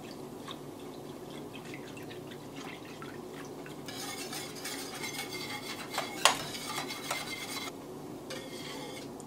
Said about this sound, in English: And give it a good whisk.